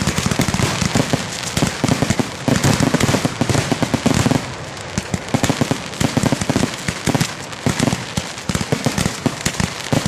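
Fourth of July fireworks and firecrackers pop and crackle in rapid, dense bursts, loud and close, with sharp overlapping reports and no talking.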